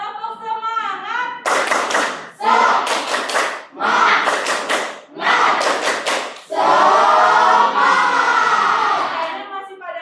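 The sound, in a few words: classroom group doing a rhythmic spirit clap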